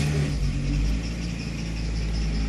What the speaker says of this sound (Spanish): Arrancamos el carro.